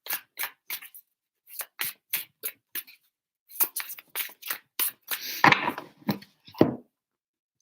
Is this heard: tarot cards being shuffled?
yes